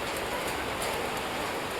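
Steady rain pours down over flowers and green leaves, a dense, even hiss of drops with no pauses and no voices.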